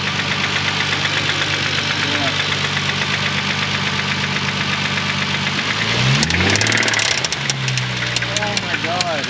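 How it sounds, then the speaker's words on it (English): A car's blown motor idles with rod knock, giving a steady low engine drone that turns into a rapid, harsh metallic knocking near the end, loud and close. "If you were ever curious how rod knock sounds like,"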